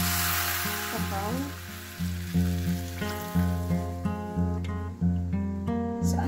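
Broth hits a hot pan of miki noodles with chicken balls and mixed vegetables, bursting into a hissing sizzle that settles into a softer, steady simmer beneath a rhythmic music bed.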